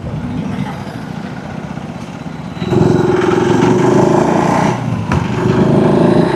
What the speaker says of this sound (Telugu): కొత్త స్కూటీ వెళ్తున్నాయి.